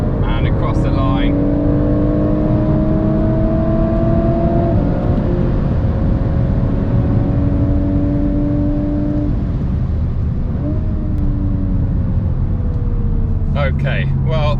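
A Volkswagen Golf R Mk8 runs a fast track lap, its engine note rising and falling through gear changes in a steady in-cabin drone, while someone talks over it.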